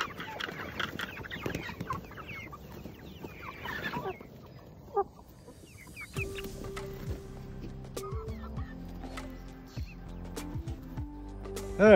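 A large flock of about a hundred farm chickens clucks and squawks all around, close and busy, with scattered calls overlapping a steady rustle and shuffling.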